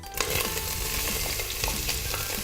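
Onion sizzling loudly in a hot pan for sweetcorn chowder, a dense crackling hiss with occasional stirring scrapes, close and continuous.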